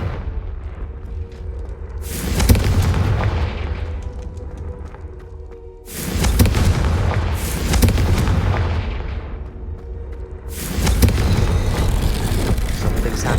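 Confringo spell explosions in the Hogwarts Legacy video game, three loud booming blasts about four seconds apart, each followed by a long rumbling, crackling tail that fades before the next one hits.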